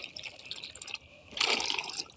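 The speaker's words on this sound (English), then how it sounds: "it's actually going all the way up and scrubbing the water line" SMOROBOT robotic pool cleaner scrubbing a pool's water line, water sloshing and trickling with a bright surge of splashing in the second half, close and fairly loud.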